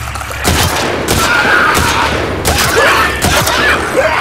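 Gunshots in The Last of Us Part 2, several loud, close shots spaced about a second apart, each with a booming tail over background game noise.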